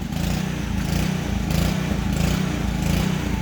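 A pressure washer engine runs during deck cleaning in Cincinnati, Ohio, while air is purged from the washer. It holds a steady, loud, close mechanical drone with a rough, pulsing low rumble, and no voices.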